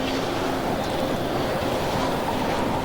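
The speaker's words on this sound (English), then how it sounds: "Sounds windy." Steady storm wind in the Pacific Drive video game, a continuous roaring rush of noise with a faint low tone, constant and fairly loud throughout with no voices.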